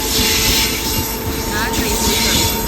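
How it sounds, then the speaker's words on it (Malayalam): A long-distance Thiruvananthapuram–New Delhi train rushes past in Kerala, producing a steady, loud, broadband roar of wheels and rails with a faint high squeal throughout, close by and continuous. "ആ ട്രെയിൻ അത് തിരുവനന്തപുരം ടു ന്യൂഡൽഹി പോകുന്ന ട്രെയിൻ കേട്ടോ"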